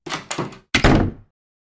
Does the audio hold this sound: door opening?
yes